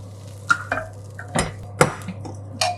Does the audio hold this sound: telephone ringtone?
no